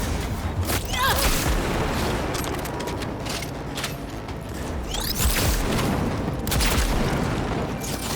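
Dense firefight in Cyberpunk 2077, with scattered gunshots and bursts of fire over a constant rumbling battle din, some cracks sharp and near, others muddied in the mix, with faint voices beneath.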